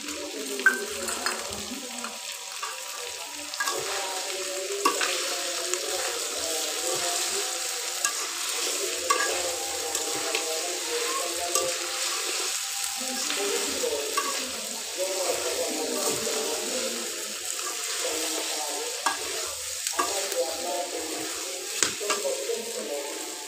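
Chopped onion fries with chicken in a pan, a constant bright sizzle under repeated scraping and stirring strokes with occasional utensil knocks, close up.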